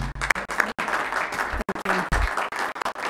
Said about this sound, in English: Will you give the Recorder Surveyor a round of applause,